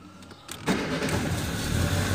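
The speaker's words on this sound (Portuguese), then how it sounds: "Funcionando o veículo aqui, ó." A Fiat Uno with a faulty temperature sensor cranks briefly and catches, its engine then settling into a steady, close idle that stays loud to the end.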